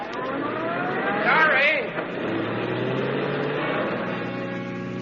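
A car engine hums steadily while driving along a road in a 1946 radio drama, with a brief louder rising whine early on, then a constant drone carrying through.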